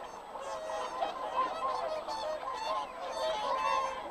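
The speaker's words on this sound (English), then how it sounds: "Hooper swans breed in the Arctic. They've flown all the way across Russia." Whooper swans, Arctic-breeding migrants arriving at a refuge near Astrakhan, call in a steady chorus of overlapping honks and bugling notes, moderately loud and continuous with no pauses.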